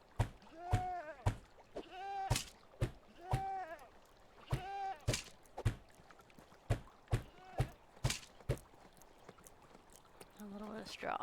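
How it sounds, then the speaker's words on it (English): Sheep bleat repeatedly in the medieval farming game Medieval Dynasty, several close wavering calls mixed with sharp clacking and knocking sounds, ending in a brief low voice. "Man, these sheep, they're just destroying everything."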